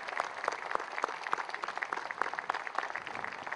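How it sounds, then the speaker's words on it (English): Applause from the crowd at a statue dedication ceremony for Justice Brennan: many hands clapping steadily with sharp individual claps standing out, moderately loud and continuous, with no talking over it. "we should give them a standing round of applause and ovation"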